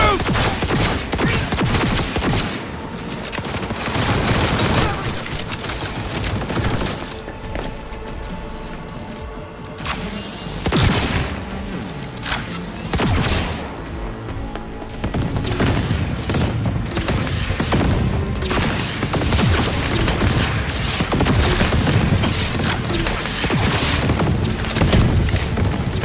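Dense, sustained gunfire from a firefight in the video game Cyberpunk 2077, with bursts and rapid shots layered over a loud, busy game soundtrack throughout.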